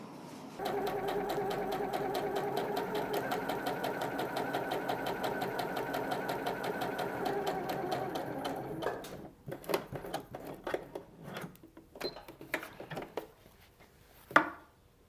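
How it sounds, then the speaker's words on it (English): A sewing machine runs steadily while top stitching fabric, a rapid even mechanical clatter lasting about nine seconds, then stopping into scattered clicks and handling noises with a sharp knock at the end. "We're now going to top stitch from the side seam to the side seam along the front only"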